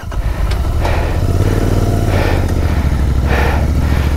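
A motorcycle engine idles steadily in the snow after finally starting, a close, loud, continuous low thrum with a few faint clicks and knocks over it.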